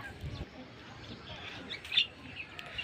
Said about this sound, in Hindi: और एक कबूतर यहाँ बैठा हुआ था इधर सामने छत पर कोने पे बैठा हुआ था